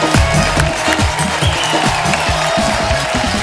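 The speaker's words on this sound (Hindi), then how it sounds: "आप सबकी जोरदार तालियों के बीच please welcome mister Jimmy Shergill, mister Abhimanyu Singh और मिस्टर इंद्रनील सेनगुप्ता।" Studio audience on a Hindi TV comedy talk show applauding as three guests are welcomed, steady dense clapping with a few cheers filling the whole stretch.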